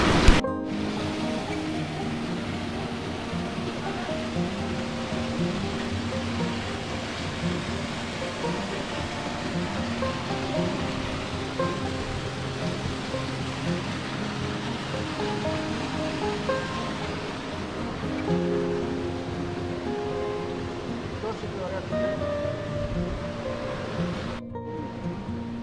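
A waterfall and river in Horma Canyon near Pınarbaşı, Kastamonu, rush in a steady, full roar of churning water that continues unbroken throughout, with no voices.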